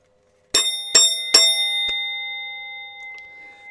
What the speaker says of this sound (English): Quick, ring the bell.